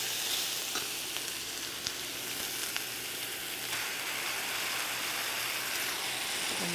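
Tomato and bell pepper sautéing in a pan, giving a steady, even sizzle and crackle that runs the whole time at moderate level, with a few faint clicks of stirring and no voices.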